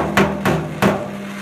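Hammer striking heated steel against a dolly during metal shrinking: three sharp, ringing metallic blows close up, unevenly spaced, each leaving a short resonant ring.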